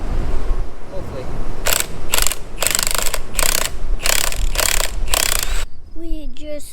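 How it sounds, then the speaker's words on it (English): A bolt being removed from a scraper chain with a ratchet: a run of six loud, evenly spaced ratcheting bursts over a steady outdoor rumble, then a brief high squeak as the chain shifts. "So we'll take this bolt out, pull the slack through."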